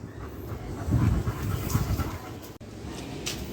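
A dog pants steadily and close by for a few seconds, a continuous breathy rhythm with no talk.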